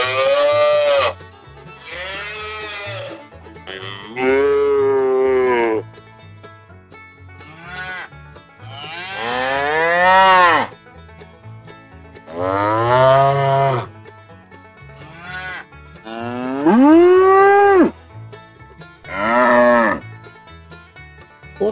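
Cattle on a farm moo in a series of long, loud calls, each lasting one to two seconds, with short pauses between them and no other sound competing.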